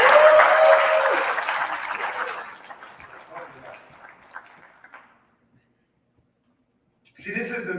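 An audience at a Black men's health and community event applauds loudly, the clapping fading out over several seconds into silence before a voice starts speaking.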